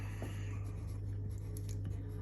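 Calligraphy letters are written with a Zig brush pen, faint soft scratchy strokes over a low steady background hum.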